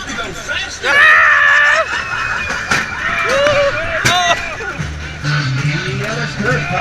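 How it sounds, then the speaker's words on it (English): Riders on a fun fair ride at Bognor Regis scream loudly and continuously. The screams rise and fall over the rumble of the ride, with a crowd babbling along and shouts mixed in. "Let me hear you scream if you want to go faster."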